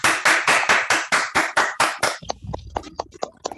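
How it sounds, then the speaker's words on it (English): Small group at a mathematics lecture clapping to thank the speaker, about ten loud, evenly spaced claps followed by a scatter of softer, sparser claps as it dies out. "we typically just thank the speaker by clapping"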